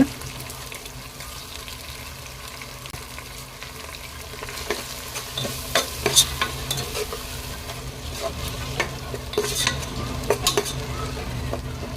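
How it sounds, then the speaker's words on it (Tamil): Vegetables are sautéed in a pot for biryani, giving a continuous moderate sizzle broken by scraping stirs and clinks of the spoon on the metal pot that grow busier toward the end, with no voices. "இப்போ காய்கறியை நல்லா வதக்கிட்டு கொஞ்சமாக தயிர் ஆட் பண்ணிக்கலாங்க"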